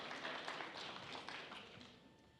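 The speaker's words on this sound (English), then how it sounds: "Give them a round of applause for that" An audience at a candidates' forum applauds in a soft, even wash that fades slowly.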